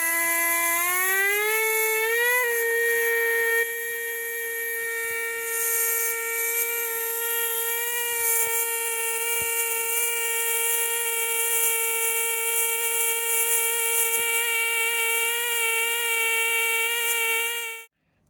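A Balaur air scribe fossil preparation tool runs continuously for about eighteen seconds, a loud steady high-pitched whine that rises in pitch over the first couple of seconds, then holds nearly constant until it cuts off abruptly.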